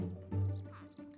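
Minecraft chickens clucking in a brief burst of squawky, quacking-like game calls, fairly close and moderately loud against a low background hum.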